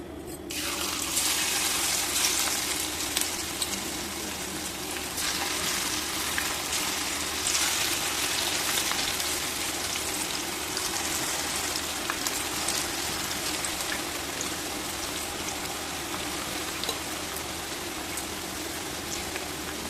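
Peanut pakodis deep-fry in hot oil, a loud, dense, continuous sizzle that surges up as the batter goes in and then holds steady, close and without talking.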